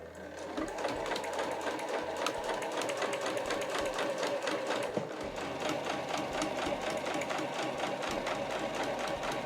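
A home sewing machine stitches heavy No. 8 canvas for a tote bag, starting with a backstitch; a steady, close mechanical whirring runs continuously with no talking.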